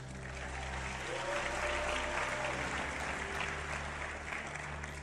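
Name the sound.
audience applauding at motivational talk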